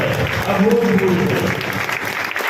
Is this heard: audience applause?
yes